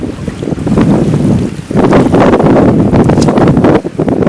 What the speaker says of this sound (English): This is a real bad squall.